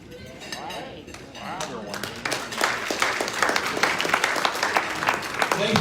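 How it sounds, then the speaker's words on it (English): Applause from an audience at a Rotary Club general meeting in Tucson, a dense round of clapping that builds and grows louder over several seconds, with faint talk mixed in underneath. "Thank you for that rousing round of applause."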